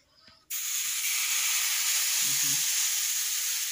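Pati shapta batter hits a hot tawa with a sudden loud sizzle that stays steady and bright, a close continuous frying hiss with no talking.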